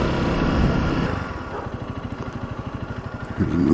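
A Honda CRF300L motorcycle on Pirelli MT21 knobby tires rides at low speed through a turn, its single-cylinder engine pulsing in a steady, close rhythm that swells near the end.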